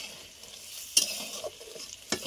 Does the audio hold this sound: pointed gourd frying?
yes